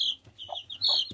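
Young, growing chicks in a coop give short, close, high-pitched peeps and soft clucks in quick bursts, with no talking.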